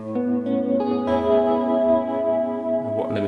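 Guitar tones run through modulated reverb and delay effects on a Quad Cortex processor, sustained chords blooming and smearing into shimmering echoing tails, steady and close, with no talking.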